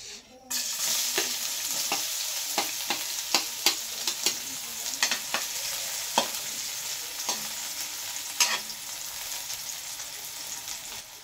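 Onions fry in cooking oil with a bright crackling sizzle that starts abruptly, overlaid by a regular series of sharp spatula scrapes and taps against the pan.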